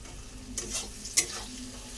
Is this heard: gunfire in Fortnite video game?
no